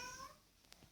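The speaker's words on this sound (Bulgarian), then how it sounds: "Това беше моят котки" A cat in the Minecraft video game meows once, a short tonal call at the start that fades quickly, followed by faint soft clicks, quiet with no talk.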